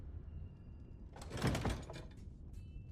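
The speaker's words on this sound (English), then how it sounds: "sound of a door close" A door closing, a brief sliding rush building to a solid thud near the middle, followed by a short settling rattle, faint and at some distance, with no talking.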